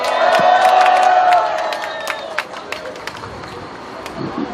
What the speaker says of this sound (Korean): 장다령 변호사 다시 한번 뜨거운 박수 부탁드립니다.